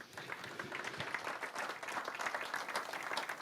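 Steady applause from an audience at a regional election candidates' round table in Pays de la Loire fills the space, dense and continuous clapping at moderate distance.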